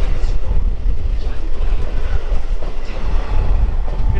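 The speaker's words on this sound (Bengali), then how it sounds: "এটা অ্যালস্টমের 3 ফেজের রেক" A new Alstom three-phase EMU local train on Eastern Railway's up line runs close by, a loud rumbling roar with rhythmic wheel clatter that stays constant and powerful for the whole stretch.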